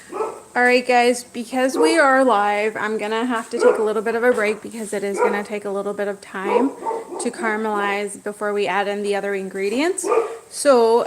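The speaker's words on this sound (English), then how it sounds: "sorry, that's my dog." A pet dog barks and yips repeatedly at home in a kitchen during a live cooking session, its bursts mixed in with a person talking continuously.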